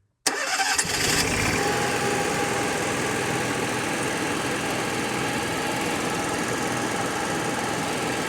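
An Onan RV generator engine catching on restart after failing to start, firing up abruptly from silence and settling into a steady, loud, even running drone that continues alone.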